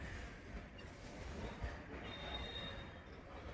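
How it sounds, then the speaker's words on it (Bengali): A train passes near a station, a continuous low rumble with metallic wheel squeal, fairly faint and steady throughout, with no voices. "ট্রেন যাচ্ছে।"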